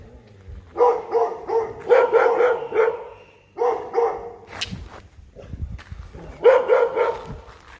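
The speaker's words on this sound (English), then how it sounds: "These dogs, they try to scare you." Several dogs bark repeatedly in bursts, loud and close, with short pauses between volleys and a few higher yips, in Thailand between Surat Thani and Koh Tao.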